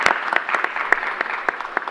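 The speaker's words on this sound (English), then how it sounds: "we should continue to give them a round of applause" Applause for first responders and healthcare workers at a COVID-19 booster announcement, a short burst of separate claps from a small group nearby, with sharp individual slaps standing out from the sound.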